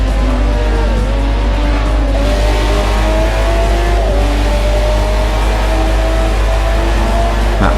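BMW V12 LMR race car in Forza 4 on the Silverstone circuit, its tuned V12 engine droning loud and steady, pitch sweeping up and down through gear changes across the whole stretch, with no voices.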